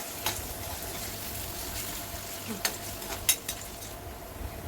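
Onions sautéing in a pan for Khandeshi shev bhaji, a low steady sizzle with a few soft spatula taps and scrapes near the end; no voices.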